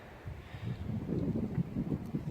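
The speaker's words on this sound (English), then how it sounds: "Oh man, this wind out here today is stupid." Wind blows outdoors, striking the microphone in gusty, low rumbling buffets that surge and ease without pause, fairly close and moderately loud, with no voices.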